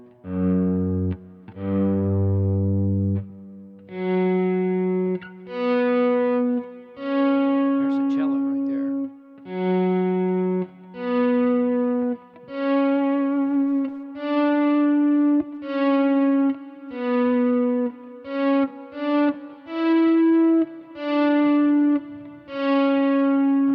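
Electric guitar played through a string emulator in the low register, imitating a cello or bass, with a series of sustained bowed-sounding notes that swell in one by one, loud, near and alone.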